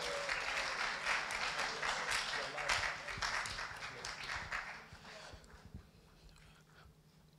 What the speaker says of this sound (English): Let's give him a clap offering, church.